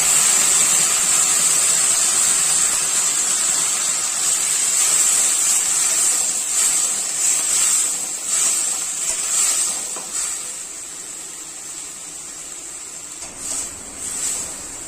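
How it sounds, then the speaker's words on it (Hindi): Onion and onion paste frying in a pan give off a loud, steady sizzling hiss that slowly eases and wavers, with a couple of brief flare-ups near the end and no talk. "अच्छे तरीके से लाल होने तक भूनेंगे हम प्याज को"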